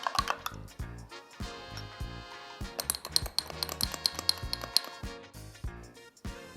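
A spoon clinks repeatedly against a 250 ml mug while baking soda is stirred into orange juice, giving bright, rhythmic tapping and scraping that stays close and fairly quiet, with a small clatter toward the middle.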